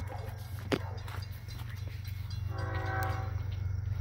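FEC freight train with locomotive 812 passing, a steady low rumble of rolling cars with a sharp clank near the start and a horn-like tone swelling in the second half.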